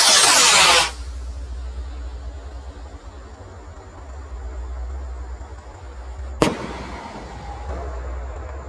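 A Roman candle firework rocket goes off outdoors: a loud, rushing hiss of the launch lasts about a second, a quieter gap follows, and then a single sharp explosion cracks out.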